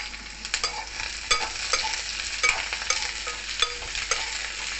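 Chopped onion and green chilli frying in a pan, a soft continuous sizzle marked by light, irregular stirring taps, fairly quiet and close, with no talk.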